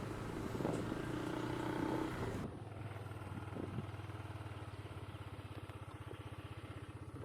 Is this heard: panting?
no